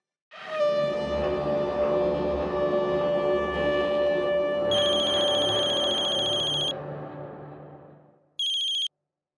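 A telephone rings in a long sustained electronic tone lasting several seconds, then a short final burst after a pause; no voices.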